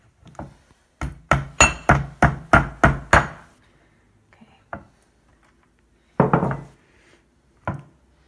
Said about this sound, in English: I'm just going to be using a hammer and nails here on each 4 of these little corners.